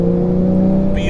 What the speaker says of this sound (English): you get that lovely whoosh and induction noise as you squeeze the throttle out of a corner